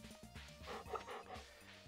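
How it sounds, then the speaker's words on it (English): A game dog in Stardew Valley reacts to being petted with a short burst of soft, close yips and whimpering barks over a steady background music bed. "Let me pet the dog while I'm over here as well."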